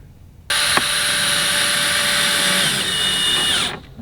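A power drill drives a screw into a MOLLE door panel on a Jeep JL, with one steady, loud whir at close range lasting about three seconds before it stops, and no speech.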